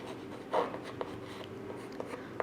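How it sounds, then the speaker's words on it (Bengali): Marker or chalk writing on a board during a math class, faint short strokes and taps in a quiet room with a low background hum. "সেটা লিখবো এখানে"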